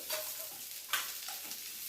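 Cinnamon stick, cloves and ginger frying in a pan, a soft, quiet sizzle with faint stirring scrapes and one brief louder clatter.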